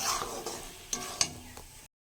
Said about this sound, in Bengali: খিচুড়ির সাথে এই জায়গায় ভালো মতো কষিয়ে নিয়ে একটু জল দিয়ে দেবো।